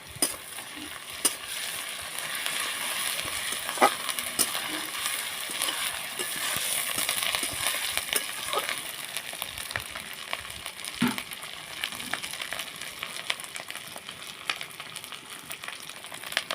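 Ginger-garlic paste frying in a pan with onions already browned red, a steady bright sizzle running throughout with occasional stirring scrapes and pops, close and fairly loud with no talking.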